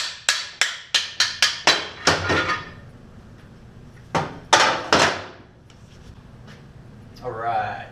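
Sharp metallic hammer blows drive out the freeze plugs and cam bearings of a 350 small-block Chevy engine block, a rapid series of about eight close strikes followed after a pause by a few more.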